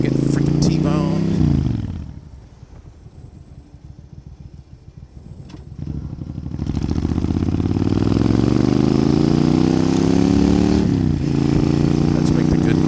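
A Suzuki Intruder 1400 motorcycle engine, an old SR37, rumbles at idle, drops briefly, then revs up and holds a loud rising drone while riding.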